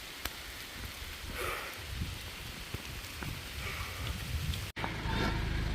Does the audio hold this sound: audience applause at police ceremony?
no